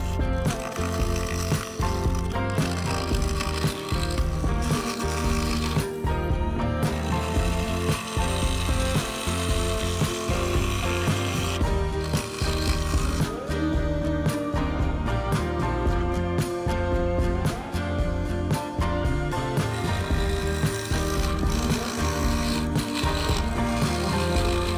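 A bowl gouge cuts the inside rim of a spinning yew wood vase on a lathe, giving a continuous dense ratcheting, chattering scrape over the lathe's steady hum, loud and unbroken with no talk.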